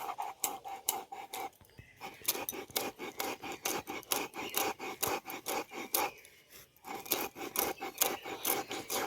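Roasted salt is crushed on a sil nora grinding stone with repeated rasping, grinding strokes in an uneven rhythm, close and fairly quiet, with brief pauses between bursts.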